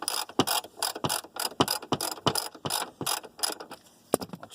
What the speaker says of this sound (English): take your 12mm, come down here, and loosen this bolt right by your steering wheel adjustment